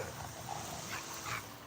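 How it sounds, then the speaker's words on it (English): Dogs playing indoors give faint, distant yips and whimpers beneath a steady background hiss, a few brief high cries scattered across a short span. "The dogs are playing."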